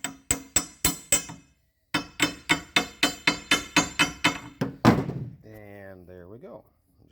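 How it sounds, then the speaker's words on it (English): Coupler being tapped onto a pipe to seat it snugly, a quick series of sharp, evenly spaced knocks in two bursts of about five and ten hits, close and distinct, with a brief spoken phrase at the end. "Tap it on a little harder just to make sure we're good."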